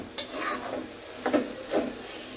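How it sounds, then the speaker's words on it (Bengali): Soaked mung dal frying in spices in a pan, a soft sizzle broken by a few spoon-stirring scrapes, close and fairly quiet, without speech. "এখন আবার এটা মশলার মধ্যে ভেজে নিচ্ছি"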